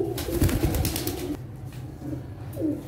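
Pigeons kept by a hobbyist coo and flap their wings close by, a burst of wingbeats and fluttering in the first half followed by quieter soft cooing calls.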